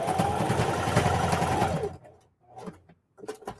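A sewing machine runs in a steady, close whir for about two seconds while top stitching a lunch bag, then stops, followed by a few short handling noises and brief bursts.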